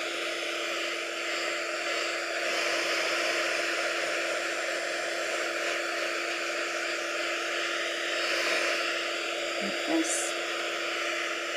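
A hair dryer blows with a steady, continuous whooshing roar as it dries a craft piece, loud and close throughout, while a voice speaks briefly over it.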